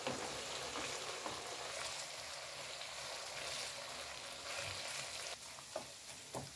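Fat for kokoreç melting in a pan, giving a continuous close sizzle and crackle at low volume. A few faint clinks from stirring break in near the end.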